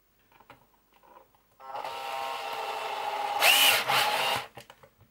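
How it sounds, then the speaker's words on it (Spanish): A handheld power screwdriver drives a screw into a DIY sliding shelf, buzzing steadily for about three seconds close by, with soft handling clicks before and after. "vamos a coger el atornillador y vamos poniendo los tornillos"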